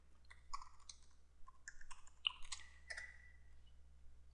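Typing on a computer keyboard: a short run of light, crisp key clicks in an irregular rhythm, close but quiet over a low steady hum.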